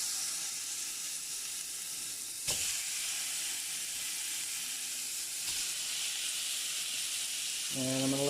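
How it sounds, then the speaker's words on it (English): Three steaks with thyme sizzle hard in a hot pan, a loud steady frying hiss lasting throughout with a couple of brief sharp crackles, and a short clatter near the end. "I'm going to throw my 3 steaks on"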